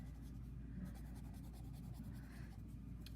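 A pencil shades in fraction pieces on paper with soft, rapid scratching strokes, close and faint over a low steady hum.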